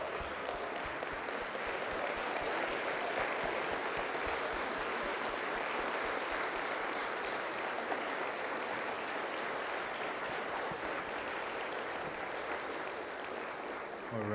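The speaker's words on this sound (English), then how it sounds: "Can we give him a big standing round of applause?" A lecture audience gives a standing ovation, with dense, continuous clapping holding at a steady level for the full length.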